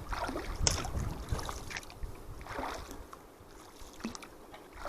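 A canoe is paddled across a pond on a cool, breezy day, with soft water swishes and splashes returning every couple of seconds over a light wind rush, fairly close and without talk.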